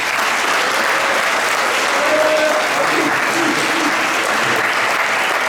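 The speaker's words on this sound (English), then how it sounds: "Please join me in giving all these students one more round of applause." An audience at a school board meeting applauds students in a sustained, even round of clapping that fills the room throughout.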